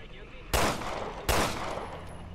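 Two loud, sharp shotgun blasts from Resident Evil Revelations 2, spaced under a second apart, each with a short ringing tail over a low background hum.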